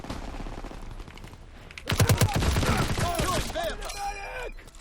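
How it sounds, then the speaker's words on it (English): Suppressed machine gun in Call of Duty: WWII fires a rapid burst of muffled shots that swells partway through, with game effects and chirps trailing after. "So you have a suppressed machine gun by the looks of it."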